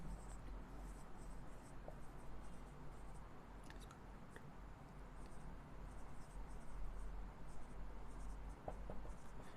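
Chalk or marker scratches across a board during a lecture on gametogenesis, with faint, continuous scraping strokes and occasional small taps against a quiet room hum.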